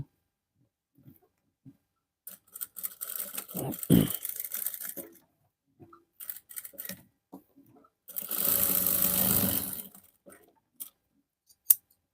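A sewing machine stitching pajama pants runs in short close bursts, a rapid mechanical whirring rattle, followed by a longer steady run, with quiet gaps and small clicks between.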